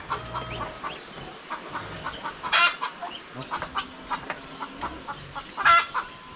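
A flock of hens clucks softly around a newly arrived rooster, scattered mid-distance calls with two louder squawking bursts standing out above the murmuring flock.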